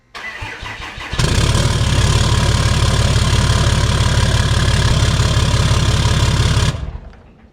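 A Ram 2500's Cummins diesel cranks briefly, then fires and settles into a loud, steady, throbbing idle close by, running several seconds before cutting off abruptly.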